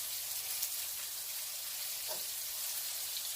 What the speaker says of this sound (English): So I'm just going to fry it on each side.